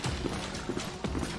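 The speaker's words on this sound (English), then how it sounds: "Hopefully you're not afraid of horses." Horse hooves clip-clop in a steady rhythmic gait in the medieval combat game Mordhau, close and moderately loud with no voices over them.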